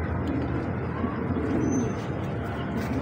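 Madani pigeon, a male with full bone-jointed build, cooing steadily and close, low throaty coos rolling on without pause over a faint bird chirp or two in the background.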